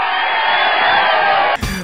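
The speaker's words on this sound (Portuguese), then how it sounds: "Uma salva de palmas aí." A studio audience on an interview show greets two guests with loud, sustained cheering and whooping, a bright crowd roar that cuts off abruptly near the end.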